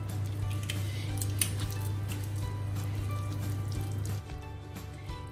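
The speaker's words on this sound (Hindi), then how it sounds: "और इसको अच्छे तरीके से मिक्स कर लीजिए।" Wet squishing and scraping as sugared orange poppy seed cake batter is stirred by hand, steady and continuous over a low hum that stops near the end.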